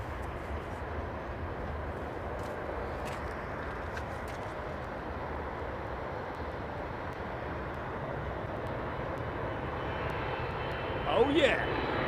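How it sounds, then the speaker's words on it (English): Qatar Airways Boeing 777-300 heavy jet in Formula One livery landing at London Heathrow, a steady broad engine roar held at even loudness throughout, with a brief louder swell near the end. "Okay, we've got a heavy coming in, folks."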